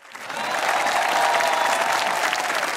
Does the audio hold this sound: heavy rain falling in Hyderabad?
no